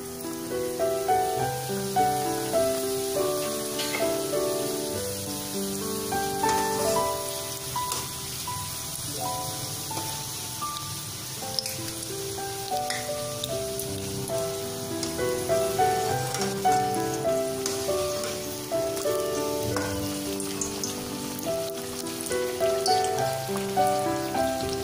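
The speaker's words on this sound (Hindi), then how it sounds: "स्प्रिंग रोल तैयार है, अब इसे हम डीप फ्राई करेंगे।" Homemade vegetarian spring rolls deep-fry in hot oil over a low flame, making a dense, continuous crackling patter beneath steady background music.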